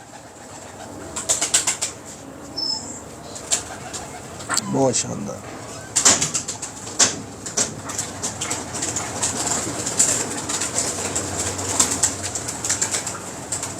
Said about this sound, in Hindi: ये जी सलारा कबूतर